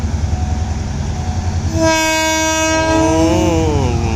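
A Hitachi diesel locomotive (No. 4504) horn blasts loudly with a rich multi-tone chord, sounding over the steady low rumble of the engine at a railway crossing.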